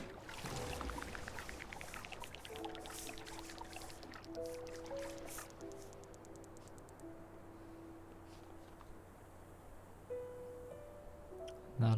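Water pours and trickles as it fills a central lake and river in Terra Nil. The soft, continuous flow runs under gentle tonal game music and ends with a brief louder splash.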